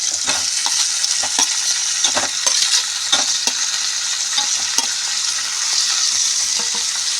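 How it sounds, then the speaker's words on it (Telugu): Tomato pieces sizzle steadily in hot oil in a pan, with repeated scraping stirs of a spoon close by and no voices. "ఇవి కొద్దిగా వేగిన తర్వాత దీంట్లోనే టమాటా ముక్కలు కూడా వేసేసుకుంటున్నాను నేను"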